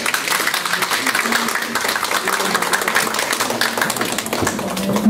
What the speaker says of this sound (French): je vous demande de l'applaudir avec moi